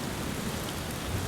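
Steady rain pours at night, a dense, even hiss of drops filling the whole moment with no voices or other sounds.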